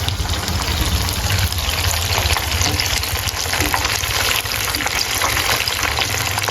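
Lumpia dynamite, chili peppers wrapped in lumpia, frying in hot oil with a steady, dense sizzle and crackle that holds loud and close throughout, with no talk.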